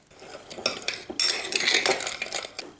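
Salt and seasonings mixed in a bowl for a crockpot pork roast, with close clinking and scraping of a utensil against the dish in quick uneven bursts, no talking.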